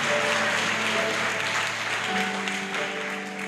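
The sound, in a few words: congregation applauding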